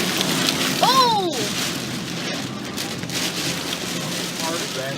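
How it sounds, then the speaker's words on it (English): Heavy rain pours down by a lake during a lake-effect storm, a dense, loud, continuous hiss. A brief rising whistle-like tone cuts in early, and a few sharp clicks break through the steady downpour. "It rained harder back here by the lake."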